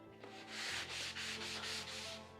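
Close, steady back-and-forth rasping of a foam sanding sponge worked over wood filler on a door under restoration, about six even strokes in a row with no talking.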